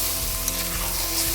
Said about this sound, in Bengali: এখানে হচ্ছে হলো মাটন কষা।